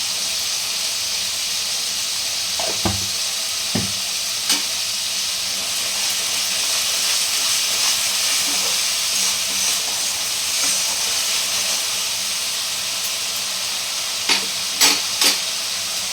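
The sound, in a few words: spices being sautéed and stirred in a pan for fish curry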